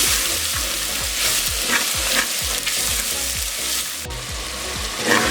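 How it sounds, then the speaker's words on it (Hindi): Red chili powder and turmeric fry in hot oil for a spicy dal, a dense continuous sizzle broken by regular stirring strokes, close and fairly loud over a thumping musical backing. "इसको 1 से 2 मिनट के लिए हम भून लेंगे।"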